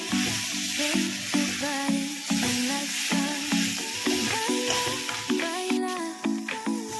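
Okra sizzling as it fries in a pan for a ladies finger curry, a steady soft crackle that runs under prominent tuneful background music.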